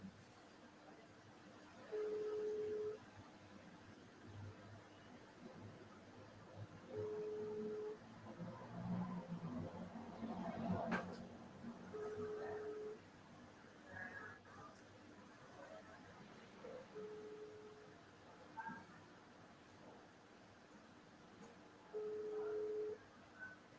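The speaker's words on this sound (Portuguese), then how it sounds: "Ah, sabe o que eu vou fazer? Se é a conexão, eu vou ligar direto." Telephone keypad tones sound in short evenly spaced bursts as a number is dialed, a steady beep roughly every few seconds over faint background hiss and a little distant talk.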